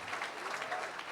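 Church congregation clapping for Jesus at a bishop's gathering by Lake Maggiore, Italy, a steady, dense wash of applause with a few faint voices mixed in.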